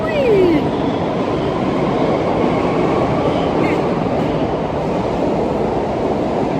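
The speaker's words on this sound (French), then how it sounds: "c'est métro, ils aiment trop faire du bruit" Metro train noise in a station, a loud continuous rumble and roar of a train moving nearby with a brief squeal at the start, speech faintly possible underneath.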